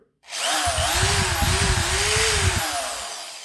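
A Parkside PNS 300 B3 two-speed cordless drill screwdriver whirs steadily at high speed for about three seconds, loud and close, its motor pitch wavering slightly before winding down.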